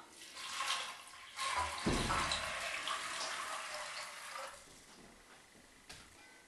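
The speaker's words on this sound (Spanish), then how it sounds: "Y voy a cubrirlos bien con agua." Water pours into a cooking pot to cover adzuki beans and a piece of kombu seaweed, a steady close rush that swells, then trails off into softer trickling.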